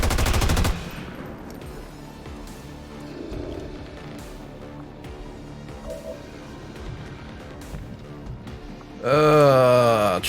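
Gunfire in the video game XCOM 2, a loud rapid burst of shots at the very start, then a quieter stretch of ambient game sounds before another heavy burst of fire near the end.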